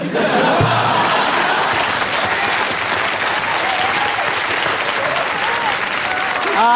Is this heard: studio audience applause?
yes